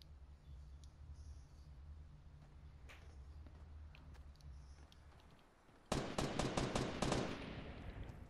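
Video game gunfire erupts late as a loud, rapid burst of automatic shots over a steady low hum, then trails off.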